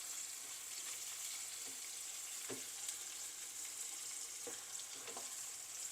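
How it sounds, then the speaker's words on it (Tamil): Fish fries in a pan for a fish masala, a soft continuous sizzle with a few faint pops and stirring taps scattered through, fairly quiet and without talk. "இப்போ இந்த ஃபிஷ்ஷும் ஃப்ரை ஆகி கொண்டு வருது."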